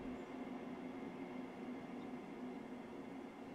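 Steady low rumble of a train pulling away in the Transport Fever rail simulation game, a continuous even drone with a faint tonal hum and no voices.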